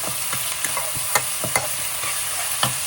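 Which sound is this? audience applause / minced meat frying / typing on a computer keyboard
minced meat frying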